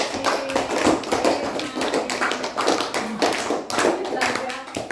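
An audience at a training session claps together in a fast, uneven patter of hand claps close by, with a few voices mixed in.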